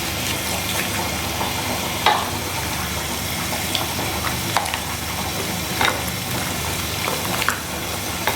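Bay leaves frying in a hot kadai give a steady, continuous sizzle with occasional soft clicks of a utensil. There is no talking.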